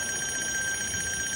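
A telephone rings with a steady, bright electronic tone held evenly for the whole short stretch, moderately loud and alone, with no voices.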